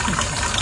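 Running water streams from a tap in a steady, loud, unbroken wash, with no voices over it.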